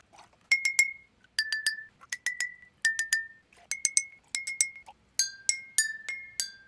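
A homemade marimba of glass cups filled with different amounts of water is struck in quick clusters of bright, ringing clinks at varied pitches, each note decaying briefly, clear and close with no talking.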